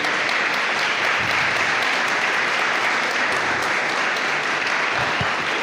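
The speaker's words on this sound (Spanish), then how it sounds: "Dele un aplauso al Señor, por favor" A church congregation applauds steadily throughout, with dense, continuous clapping that fills the room at an even, sustained level and no voices rising above it.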